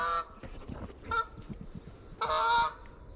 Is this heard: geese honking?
yes